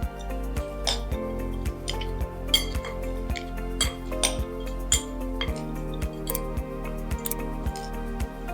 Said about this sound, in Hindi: और ये पापड़ी, इसको फिर से एक बार मिक्स कर लेंगे।